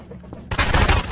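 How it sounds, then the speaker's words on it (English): Burst of loud explosive blasts in Garry's Mod, hitting abruptly after a quiet moment and rumbling in a dense, crackling cluster for under a second. "Explosions."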